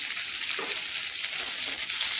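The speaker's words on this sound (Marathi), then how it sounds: "मी कढईत थोडंसं तेल गरम करून घेतलं आणि त्यात कांदा घातला" Onion sizzles and crackles steadily in hot oil in a wok, a close, continuous frying hiss with faint stirring movement.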